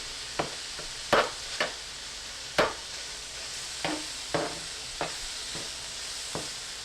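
Lasagna sauce in a pan being stirred, a soft low sizzle punctuated by about a dozen sharp clacks and scrapes of the spoon against the pan at irregular intervals, close and fairly quiet.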